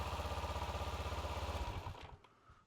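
An engine turning over on its starter motor while a no-start fault is being traced, a steady rapid cranking pulse that runs loud for about two seconds, then stops and trails off into quiet clicks.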